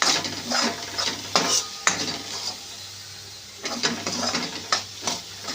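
Spiced green pea filling for stuffed parathas being stirred and sautéed in a pan, with a spoon scraping and clinking against the metal in short bursts over a faint sizzle, close and moderately loud.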